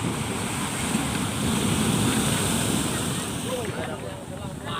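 Wind gusting by the sea at an outdoor seaside gathering, a steady loud broadband rush with surf-like roar throughout, while people talk faintly in the background.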